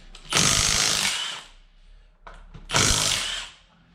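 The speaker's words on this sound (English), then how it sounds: "so I can get the drill in for tapping." Two loud bursts of a power drill whirring and hammering while tapping a Honda TRX300 4WD quad chassis, each about a second long, separated by a quieter pause, close by.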